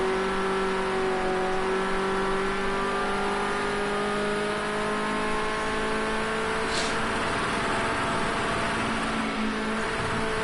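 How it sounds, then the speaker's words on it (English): A Ford Escort RS 1600 engine in a racing game, bouncing on its rev limiter at Laguna Seca, gives a loud, steady, high-pitched engine drone with strong harmonic whine that holds throughout. "Really ragging the limiter there."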